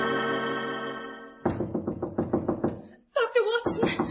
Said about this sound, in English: I was awakened by the maid rapping frantically at my door